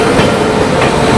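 Sampoorna Kranti Express, an Indian express train leaving Delhi, overtaking the Satyagraha Express: a loud, steady rush of rolling wheels and rail noise with faint rhythmic clatter, continuous throughout and close by.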